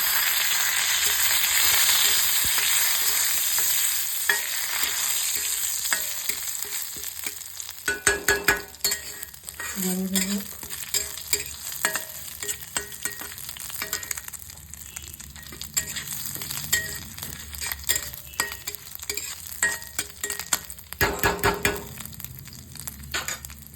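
Cumin seeds and bay leaves frying in hot oil for a bottle gourd and prawn curry, a steady close sizzle with occasional clinks and scrapes of stirring, no voices.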